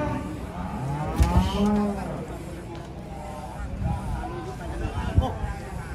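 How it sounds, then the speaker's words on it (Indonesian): A small calf moos from a truck at Jelok livestock market, a couple of drawn-out lowing calls in the middle, with people chattering and crowd noise throughout. "Ini sapi kecil oleng"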